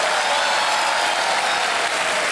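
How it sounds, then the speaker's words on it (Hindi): Steady, loud studio audience applause on the KBC quiz show set, a dense continuous wash of clapping hands with no pauses and no talk over it. "तालियां बजती रहें संगीता जी के लिए।"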